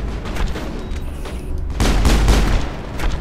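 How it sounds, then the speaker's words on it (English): Assault rifle fire in the sci-fi shooter Mass Effect: dense, booming bursts of shots that swell louder in the second half amid rumbling combat noise. "why am I using the assault rifle?"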